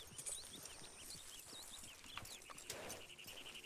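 Horse hooves clip-clop at a steady walking pace in Red Dead Redemption 2, quiet and even, with faint bird chirps in the background.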